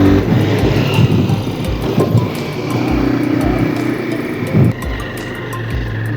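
A motorbike rides along a rough, partly unpaved shortcut road, its engine a steady low rumble with bumps and rattles throughout, close and continuous, with no talk.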